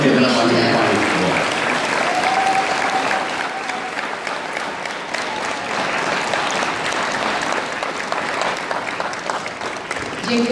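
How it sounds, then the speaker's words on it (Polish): A crowd at the formal opening of a school sports hall in Rawicz, Poland, claps warmly and continuously, full applause that dips slightly and carries on steadily while people speak over it. "Myślę tak, że brawa się należy"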